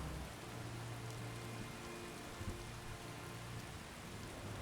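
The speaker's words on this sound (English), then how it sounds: "Look at the way the rain's going." Steady video-game rain with wind hisses as a dense, even wash, with a faint low rumble like distant thunder. No one speaks over it.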